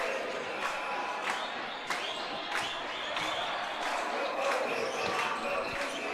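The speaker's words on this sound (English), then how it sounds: "the cheering that you're hearing is the Argentinian team has arrived" A packed crowd at the Dodgeball World Championships 2024 cheers and roars steadily as a team arrives, with sharp foam-ball bounces and thuds cutting through the constant arena noise.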